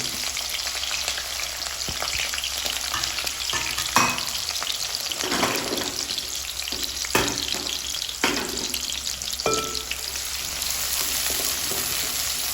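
Onions frying in a pan for fish curry, a strong steady sizzle with intermittent spoon scrapes and clanks against the pan, close and continuous with no voices.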